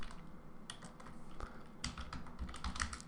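Quiet typing on a computer keyboard, a loose run of soft key clicks that speeds up into denser bursts toward the end, with no voices over it.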